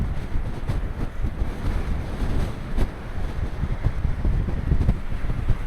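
Strong wind buffets the microphone at the edge of a sea harbour on a choppy day, with loud, gusty low rumbling and waves faintly beneath, continuous for several seconds with no voices.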